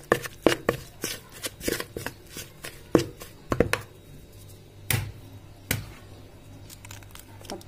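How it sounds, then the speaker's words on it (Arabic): Batter ingredients for crispy fries are stirred while water is poured in, giving a series of sharp clacks and taps against the bowl, spaced irregularly over several seconds at a moderate distance. "دلوقتي هقلب المقادير كده، وابتدي انزل بالميه"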